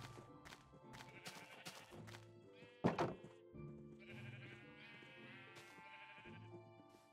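A black sheep in Minecraft bleats repeatedly, its wavering cries coming close and clear, with a thump in the middle and quiet game sounds around it.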